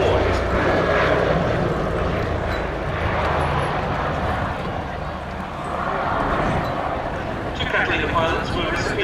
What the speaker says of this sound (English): Now here we see the Catalina flying past us with the wingtip floats deployed